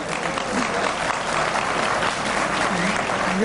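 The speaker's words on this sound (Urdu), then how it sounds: "ہاشمی صاحب یہ تالیاں اب ٹھیک بج رہی ہیں نا؟" Steady, dense applause from a television studio audience during a political debate show, continuous and fairly loud for several seconds, with speech faintly underneath.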